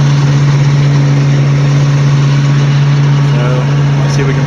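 An FV432 Mk2/1 armoured vehicle's engine drones steadily at close range, a constant low hum with a strong tonal note and no breaks.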